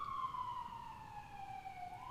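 An emergency vehicle siren wails in New York City, a steady rising and falling tone with bright harmonics that holds loud and continuous throughout, over a low rumble of street traffic.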